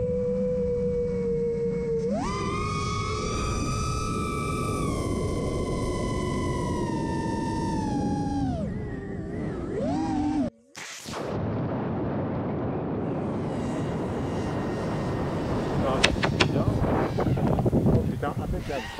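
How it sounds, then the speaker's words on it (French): Giant fake Lego model rocket with three motors lifting off: a loud sustained rushing roar for several seconds, a sharp break, then crackling pops from ejection charges amid wind noise and people talking. "On a entendu les trois charges d'éjection"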